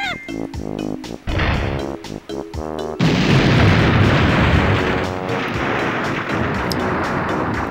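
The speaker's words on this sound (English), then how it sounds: "Now that's what you call an explosion." Banjo-Kazooie's TNT box goes off in a loud, sudden boom that swells into a sustained rumbling roar after a stretch of choppy game effects and music.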